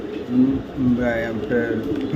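Racing pigeon of Netherlands-raced parentage cooing in soft low repeated phrases close by, under a voice talking throughout.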